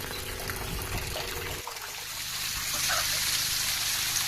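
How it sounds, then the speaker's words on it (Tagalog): Water gushes and splashes steadily close by as a concrete fish pond is drained, a continuous rushing flow that grows fuller after a brief change partway through. "at dito ko po pinalalabas yung ating tubig"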